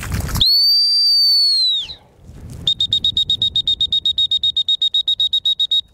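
A dog training whistle for a Labrador retriever gun dog sounds first as one long shrill blast, then after a brief pause as a rapid run of about twenty short, evenly spaced pips, loud and close with no talk.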